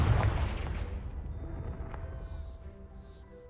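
A Confringo blasting spell cast in Hogwarts Legacy, a loud booming blast at the start that decays into a long rumbling tail with faint tonal ringing.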